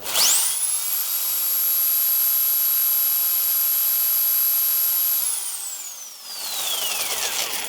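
A Fiolent 701 W power tool powered from an inverter spins up with a rising whine to a steady high-pitched motor hum, runs evenly for several seconds, then winds down with a falling pitch; no talking.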